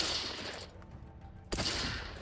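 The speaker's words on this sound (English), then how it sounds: "I'm just gonna shoot him then." Video game gunfire: bursts of rapid automatic shots crackle on and off, dropping out briefly before a loud renewed volley, moderately loud with game ambience behind.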